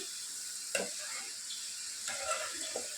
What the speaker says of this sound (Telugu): నేను హై ఫ్లేమ్లోనే పెట్టి వీటిని ఫ్రై చేసుకుంటున్నాను